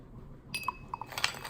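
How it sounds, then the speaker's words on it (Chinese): A metal spoon stirs white sugar into hot black tea in a glass for lemon tea, giving a few light, close clinks against the glass over a soft background with no talking. "搅拌，加快白糖溶解。"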